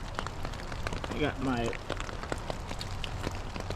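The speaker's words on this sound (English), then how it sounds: "It is raining." Rain falls steadily through the woods, a dense pattering hiss with scattered drops, while a person speaks briefly over it.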